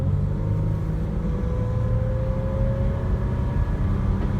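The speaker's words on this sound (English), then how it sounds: "brake again, slow down a little bit, and then do another acceleration" A Toyota 4Runner engine pulls steadily on a test drive after braking, a loud, continuous close-up drone with a slowly rising tone and no talk over it.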